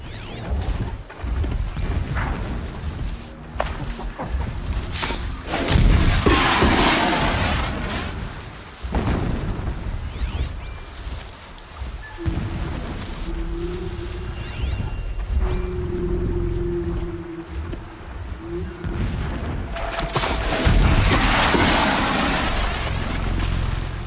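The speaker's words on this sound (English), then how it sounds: "explosions in the distance" Distant explosions boom in the video game Horizon Zero Dawn, a series of dull, irregular blasts and rumbles spread over a wide stretch, with a low droning tone joining partway through.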